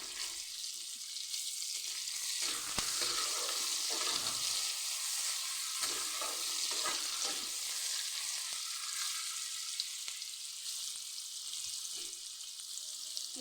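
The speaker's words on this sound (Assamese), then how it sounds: "কেৰাহী গৰম হৈ গৈছে মই ভাজিম এতিয়া শাক দি দিছোঁ পিঁয়াজ জলকীয়া দি দিছোঁ" Onion and green chilli fry in a hot wok, giving a steady, close crackling sizzle that runs the whole time with small bursts from stirring and no voices.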